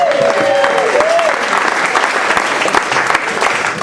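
Dense, steady applause from an audience fills the room, with a brief voice heard faintly over the clapping at the start.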